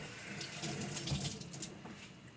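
Tap water runs briefly into a kitchen sink while food is rinsed, a soft, low splashing stream lasting only a couple of seconds.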